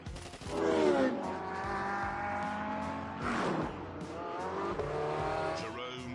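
Racing cars in The Grand Tour video game, engines revving and shifting with rising and falling whines, a tire squeal partway through, loud and close throughout.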